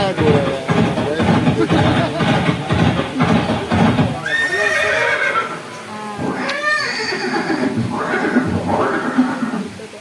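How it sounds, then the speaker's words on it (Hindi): Neighing and whinnying of Maharana Pratap's warhorse Chetak, with several loud cries sweeping up and down after a stretch of rhythmic hoofbeats and clatter, close and clear over a busy dramatic backdrop. "ये दृश्य महाराणा प्रताप और सुविख्यात स्वामी भक्त घोड़े चेतक के अंतिम मिलन का है।"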